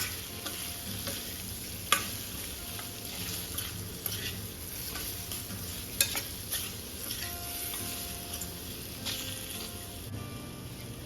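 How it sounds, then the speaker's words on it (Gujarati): A spoon stirs spices, including red Kashmiri chilli, through hot oil in a pan with raw mango for a sweet-sour curry. A quiet steady sizzle runs under occasional sharp scrapes and taps, with no talking. "અને હવે આ બધા મસાલાને આપણે આ રીતે ચમચાની મદદથી મિક્સ કરી લઈશું"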